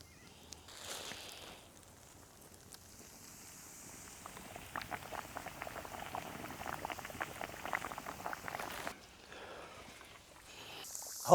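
Food for vodka parmigiana, topped with bocconcini, sizzling and bubbling in a pan: a quiet start builds into a dense crackling fizz of tiny pops, then drops away before a brief sharp noise at the end, with no voices.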